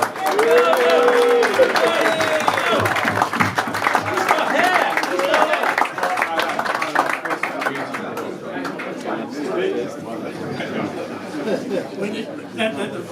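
An audience at an awards presentation claps and cheers, with lively crowd chatter throughout and a few voices over the applause, which fades somewhat toward the end.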